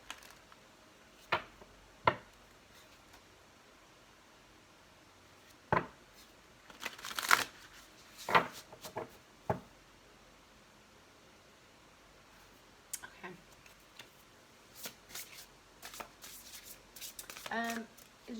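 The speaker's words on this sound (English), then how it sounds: "This will be our last shuffle." Oracle cards being shuffled by hand, heard as scattered short riffling and crisp flicking bursts with quiet pauses between them, close and fairly soft.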